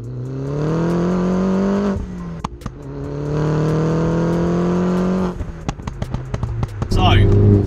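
A Mini John Cooper Works R56, tuned to about 300 bhp and set in sport mode, revs hard in two long sustained bursts. Sharp pops and crackles follow before a final rise in revs.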